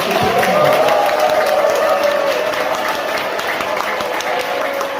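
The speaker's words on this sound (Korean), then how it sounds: "김희중 희진호 대주교님 뜨거운 박수 부탁드립니다." A church congregation giving an archbishop warm applause during a Mass, loud sustained clapping close by with a few cheers, under a murmur of voices and a faint background tone.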